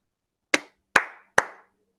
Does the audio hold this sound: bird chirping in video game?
no